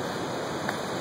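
A lower waterfall in Yellowstone roars in a steady, dense rush of falling water, loud and unbroken throughout.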